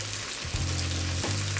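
Chorizo and vegetables sizzle and bubble as they cook down in a pan, a dense steady frying hiss up close with a low hum underneath and no talking.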